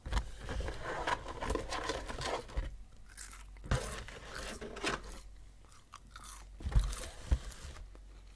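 McDonald's fries being eaten up close, with crisp crunches and wet chewing that come in irregular bursts, louder near the start and again toward the end.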